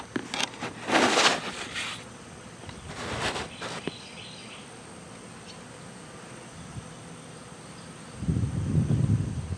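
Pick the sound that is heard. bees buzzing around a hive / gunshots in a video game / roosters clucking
bees buzzing around a hive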